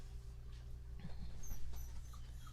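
A dog whines indoors with a few thin, high, wavering whimpers that come mostly in the middle. The sound is faint over a low steady background hum.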